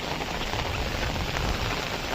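Steady rain falls during the first rains of the season in a Konkan village, a dense, even hiss of drops on surfaces, close and continuous without pause.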